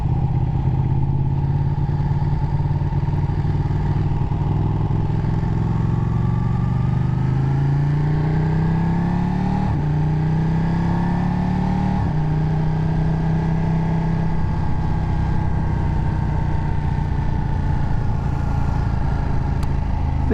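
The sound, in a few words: Ducati 1299 motorcycle engine, loud, riding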